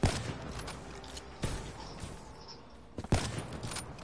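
Bursts of gunfire from a multiplayer shooter game, three loud volleys spaced a second or so apart over a low steady background, with no talking.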